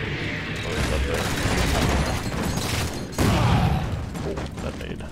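A grenade blast in Halo 4 lands amid steady surrounding gunfire, a loud close burst about two-thirds through over continuous battle noise, with a voice talking underneath.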